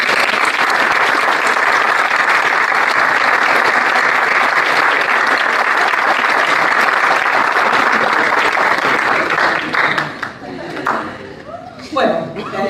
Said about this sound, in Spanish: Ay, perdón, es que no aplaudimos a Jesús.